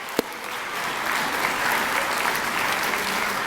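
Steady, dense applause from an audience at an eighth-grade school awards program, a full even wash of clapping that sustains without breaks after one sharp initial clap, with no voices.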